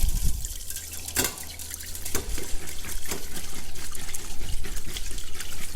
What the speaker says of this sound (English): I'm just trying to get all that brine out, or the majority of it.